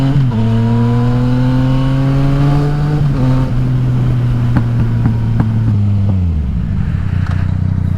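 Yamaha XSR900 motorcycle fitted with an Akrapovic exhaust, loud and close, holding a steady droning engine note while riding, then dropping in pitch as it slows near the end, with no talk.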